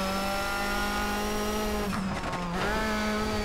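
A Mitsubishi Evo 5 racing in TOCA Race Driver 3 drones at steady high revs, then drops briefly mid-way with a quick whoosh from its blow-off valve before climbing back up, loud and close.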